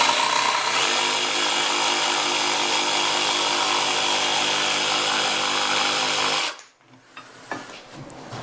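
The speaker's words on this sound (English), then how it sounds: "the blade I have in this is actually a metal cutting blade" A power saw fitted with a metal-cutting blade cuts through wood for a shoe rack, a loud, steady whining buzz that runs unbroken for about six and a half seconds before stopping abruptly, followed by faint workshop clatter.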